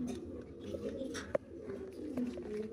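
Pigeons coo softly in a home loft, a low murmuring call that rises and falls over steady background noise, with one sharp click or tap partway through.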